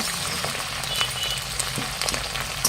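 Curry leaves fry in hot tempering oil for Nashik-style roasted poha chivda. A soft, even sizzle and hiss is heard close by with faint crackles scattered through the short stretch.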